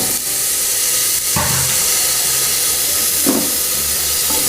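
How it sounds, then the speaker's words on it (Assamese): Soaked bora rice fries in a hot pan with a steady loud hiss and sizzle, broken by a few brief louder bursts as it is stirred, with no talking. "অলপ সময় ভাজি লোৱাৰ পিছত এতিয়া মই বৰা চাউলখিনি এড কৰিম"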